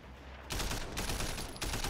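Bursts of automatic gunfire in Sleeping Dogs, two dense loud volleys of rapid shots starting abruptly, close and continuous with little pause between them.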